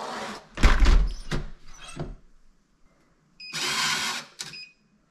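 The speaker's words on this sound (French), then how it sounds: "là, elle se referme automatiquement" A fingerprint-lock door swings shut and latches automatically: a loud thud and clunks early on, then a quieter stretch, followed by a second mechanical whirring burst of the lock motor engaging, all without voices.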